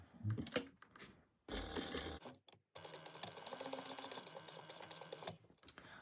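A sewing machine stitches fabric pieces of a bag together at an eighth-inch seam, a close, steady mechanical whirr with rapid needle ticking that starts in short bursts and then runs continuously for a few seconds.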